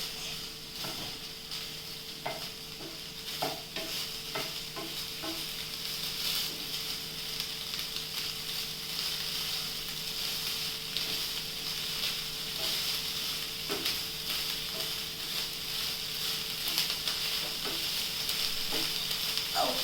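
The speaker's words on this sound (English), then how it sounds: "Let's again saute this a little bit so that we get some good flavor in it" Soybeans sauté in a hot pan for a soyabean Manchurian dish, giving a continuous bright sizzle with intermittent scraping stir clicks from a utensil, steady and close throughout with no talking.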